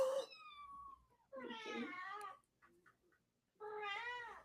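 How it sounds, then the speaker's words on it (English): High, wavering kitten meows in three separate bursts with short pauses between, close by, with faint background noise in the gaps. "Baby kitties!"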